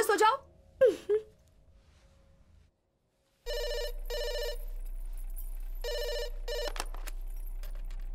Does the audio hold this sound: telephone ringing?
yes